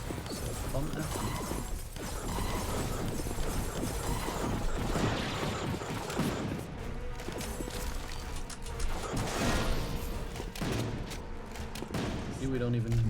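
Gunfire from a player's gun in the tower-defense video game Fortified, bursts of shots and impacts repeating throughout amid dense game effects and music, with a voice talking over it.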